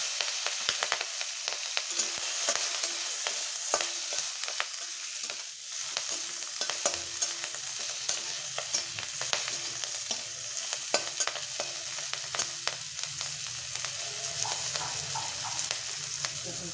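Hot oil sizzles steadily in a pan for cooking onion stalks, with frequent close scraping strokes of a stirring utensil in an uneven rhythm and no talking.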